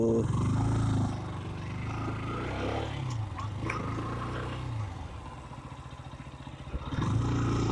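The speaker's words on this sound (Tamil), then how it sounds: "ஸோ எக்ஸாஸ்ட் நோட் வந்து பார்த்திங்கன்னா நல்லா இருக்குது" A KTM RC 125 motorcycle's exhaust drones steadily up close, its engine note dipping and settling as gears are shifted, with a low rumble throughout and no voices.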